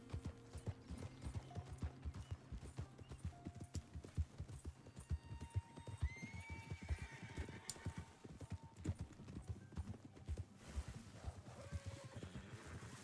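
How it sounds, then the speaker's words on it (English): Steady clip-clop of a video game horse's hooves at a walking pace, close and fairly loud, with faint mechanical clicks and a soft tonal chime in the background. "What a nice name for a horse."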